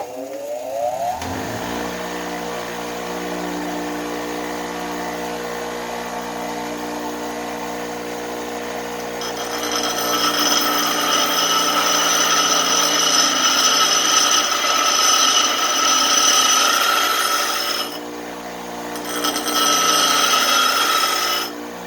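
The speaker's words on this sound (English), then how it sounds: "It's just the grinder's kind of loud, so I'm just going to let it go" A bench grinder whirs up and runs steadily, then a harsher metallic grinding joins as a drill bit is pressed to the wheel for sharpening. Loud and close, no voices.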